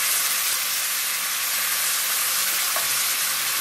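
Broth being ladled into a hot roux for sauce espagnole, giving a steady, loud sizzling hiss that holds evenly throughout with no talk.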